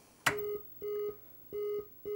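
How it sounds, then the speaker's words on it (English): Error-code beeps from a Millipede arcade PCB under repair, a sharp click and then three evenly spaced, sustained electronic tones at close range, with no talk. "those beeping actually are sequential beeps, which tells you what error codes there are"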